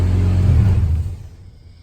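A Honda DA9 car engine idles with a low, close rumble before it winds down and fades away after about a second.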